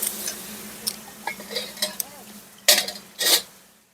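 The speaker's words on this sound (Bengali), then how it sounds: "মশলাগুলোকে খুব ভালো করে নাড়াচাড়া দিয়ে" Spice paste of green chilli stirred and fried in a pan for a cabbage dish, with a spoon scraping and clinking against the metal in irregular strokes, two louder scrapes near the end over a faint sizzle.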